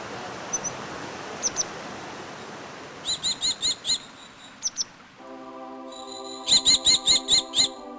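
Grey wagtail calling beside fast-flowing water: short, sharp high chirps in several brief bursts, some in quick rhythmic runs, with other birds singing and a steady rushing background.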